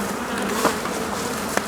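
Honeybees buzzing at a bee farm apiary with about 150 hives, a steady dense drone of many insects close by, with a couple of brief louder passes as individual bees fly near.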